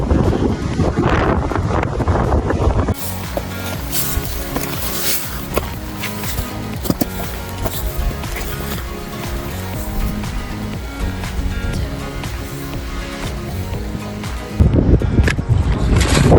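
Strong wind roars and buffets a microphone continuously on the mountain A' Chralaig in Scotland, loud and close, with heavy gusts throughout and no voices.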